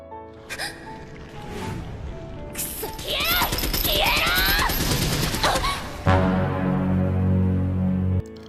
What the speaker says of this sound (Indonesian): dia nembak para bayangan di hadapannya tuh secara membabi buta